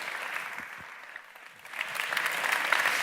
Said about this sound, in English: Please give a big round of applause to Nassim Haramein.